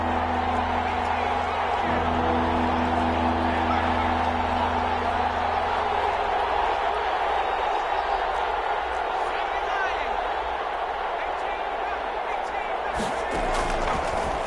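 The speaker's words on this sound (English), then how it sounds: "The crowd getting into it as we come up on a big 3rd down." A stadium crowd roars at a football game ahead of a big third down, a loud, continuous wash of cheering and noise throughout, with a sharp burst near the end.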